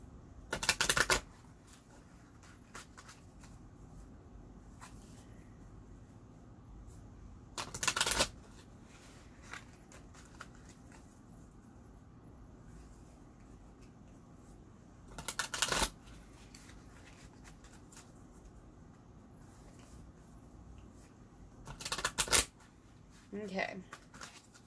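Oracle cards being shuffled in several separate bursts a few seconds apart, each a short crisp riffle of card flicks over a quiet room background.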